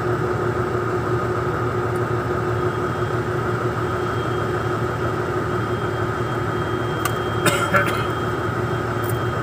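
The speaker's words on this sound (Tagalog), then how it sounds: "maingay itong truck na to" A Mercedes Actros truck engine, being fitted with new pistons and running noisily, gives a loud, steady, close-up droning hum with a brief clattery burst near the end.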